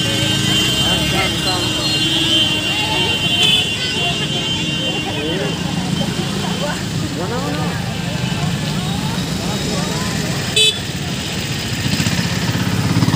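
Crowded procession of many tractors arriving amid a large public gathering with police present, a continuous dense rumble of idling and passing engines, with people talking over the steady traffic noise.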